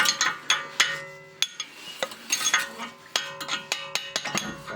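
A hammer strikes the wheel hub of a Volkswagen Golf 6 1.4 16V during a bearing change, giving a dozen or so sharp, ringing metallic blows at an irregular pace, close and fairly loud with clinking between hits.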